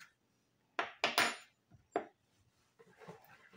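A spoon stirs boiling water with salt in a bowl for dough: a quick series of sharp, close clinks against the bowl, then softer, scattered scraping and tapping.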